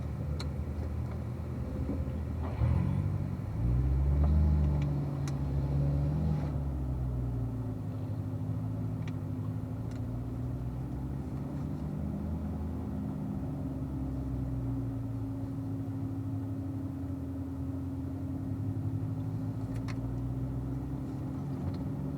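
Several cars pulling away together toward a racetrack, a steady low engine rumble and drone that swells briefly early on, then holds at an even, moderate level with no talk.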